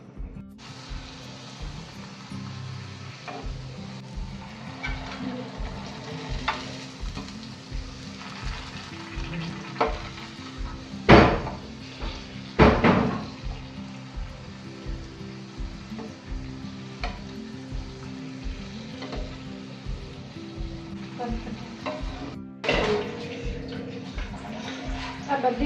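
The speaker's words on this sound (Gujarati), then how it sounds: "હવે આપણે પૂરીને તળી લઈએ." Puri dough for Gujarati panipuri deep-frying in hot oil, a steady bubbling sizzle running throughout with a few louder bursts as the puris puff, some background voice faintly present.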